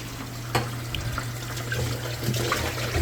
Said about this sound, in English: And so now I'm rinsing this out.